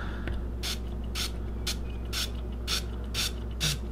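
Gun cleaner sprays in repeated short bursts into the bore of a Heritage Rough Rider .22LR revolver, about seven quick hisses at a steady rhythm over a low background hum, close and fairly loud.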